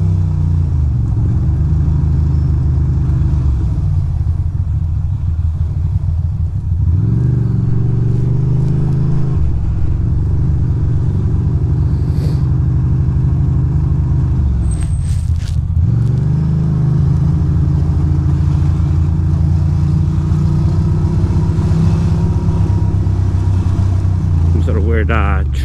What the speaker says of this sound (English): Traffic over here.